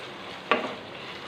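Tomatoes frying in ginger-garlic paste for aloo baingan, with a steady close sizzle and a single brief stirring scrape partway through.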